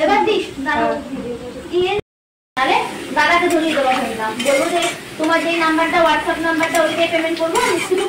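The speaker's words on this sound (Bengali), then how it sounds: "আর লাল লাল করে আলুটা ভেজে নেবো, পুরো লাল করে।" Potatoes fry in oil in a pan, a sizzling hiss with occasional utensil clinks running beneath a person talking almost throughout, with a short silent gap early on.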